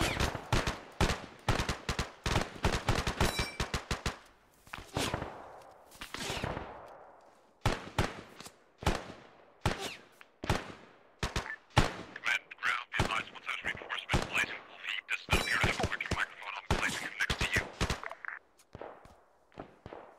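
Rapid gunfire from an Arma 3 squad firefight, dense bursts and single shots crackling in quick succession, loud and close, with sharp sustained volleys for most of the stretch and occasional voices underneath.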